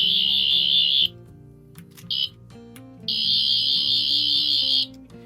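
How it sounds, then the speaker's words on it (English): A toy sonic screwdriver beeps shrilly in long bursts, with a short beep between, a sustained high tone, then silence. "You hear 4 beeps, and now we should have the red setting."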